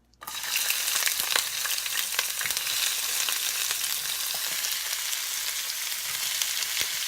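Onions and mushrooms fry in a hot wok with a loud, dense, continuous sizzle close by, crackling steadily throughout with occasional stirring scrapes and no talking.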